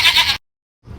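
An animated goat gives a short, quavering bleat up close, followed by silence and then faint low rustling.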